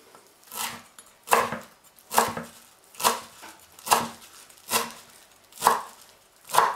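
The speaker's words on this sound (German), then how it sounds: "Jetzt schneide ich etwas von der Petersilie klein." Fresh parsley leaves, stems removed, are chopped with a knife on a board: around eight distinct, unhurried cuts spaced at a slow, regular pace, close-up with soft pauses between strokes and no voices.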